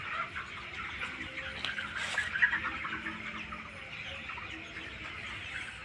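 Winter-huddled broiler chickens in a shed give a steady, busy chorus of chirps and soft clucks, with a slightly louder burst of calls in the middle.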